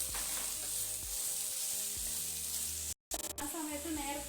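Chilli chicken ingredients sauté in a pan with a steady sizzle and spatula scrapes stirring at a regular pace, briefly interrupted by a short gap.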